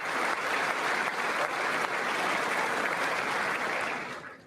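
Members of Congress applaud at a State of the Union address, a dense, sustained wash of clapping from a large chamber that holds steady for several seconds and then tapers off.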